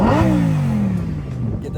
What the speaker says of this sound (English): Devin revving the Lamborghini STO Huracan.